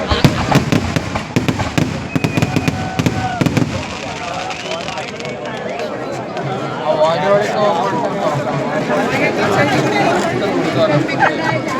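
Firecrackers burst at a crowded village temple fair, a rapid crackling rattle of many small pops. The bursts run on for several seconds amid loud crowd chatter and shouting.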